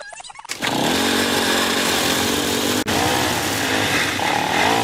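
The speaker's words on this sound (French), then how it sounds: "cette tondeuse démarrant à ce moment impromptu" A small engine sputters and then roars to life, settling into a loud, steady mechanical drone like a lawn mower running nearby.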